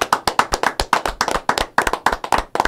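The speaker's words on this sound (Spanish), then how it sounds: "Denle un aplauso a Glenny, caramba." Several people clap their hands in a short, uneven burst of applause, the sharp claps close and steady throughout with no talking.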